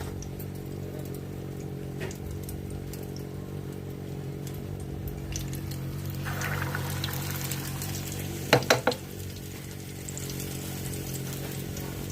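Oil sizzles steadily as boorelu, sweet Telugu fritters, fry, a continuous crackling hiss with a few sharp clinks of a utensil near the end.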